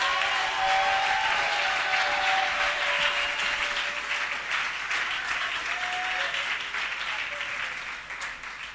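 Church congregation applauding at a special worship service, sustained loud clapping from a crowd lasting throughout and easing slightly toward the end.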